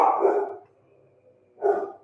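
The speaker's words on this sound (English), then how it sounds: "Sorry about my dogs." Dogs bark indoors in a home kitchen, two loud, close barks about a second and a half apart with quiet between them and no talking.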